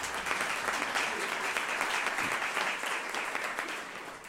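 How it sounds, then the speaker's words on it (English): A seated audience at a Columbus Metropolitan Club forum applauds steadily, a dense sustained clapping that holds at full strength and begins fading near the end. "Let's give them a round of applause for their support."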